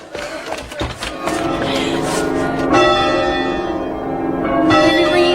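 Loud church bells clang repeatedly in a dense, overlapping peal that rings continuously, echoing strongly nearby.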